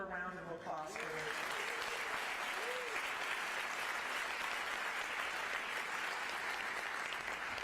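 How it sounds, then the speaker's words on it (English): A crowd at Portland's State of the City address applauds musicians and dancers with sustained, even clapping; a brief tonal voice or music fragment sits at the very start before the applause fills the rest. "So join me in another round of applause for them."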